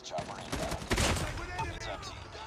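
Rapid bursts of gold M4 rifle fire in Call of Duty Mobile, a quick volley of sharp shots with one louder crack near the middle, while a player talks underneath.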